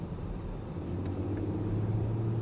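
A Porsche Panamera 4 Executive in Sport Plus mode gives a steady low engine hum and road rumble heard from inside the cabin, rising slightly in pitch as it accelerates gently.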